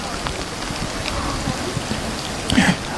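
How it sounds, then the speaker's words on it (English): Steady rain falls outdoors at an awards ceremony, a dense continuous patter with a brief louder burst of drops or splashing near the end, no voices clearly heard. "apologies for the rain"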